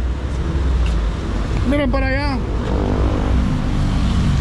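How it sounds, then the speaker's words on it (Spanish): Street traffic in Guatemala, a constant loud engine and road roar with vehicles passing nearby, and a short burst of speech partway through. "les vamos a mostrar cómo está por acá el tráfico"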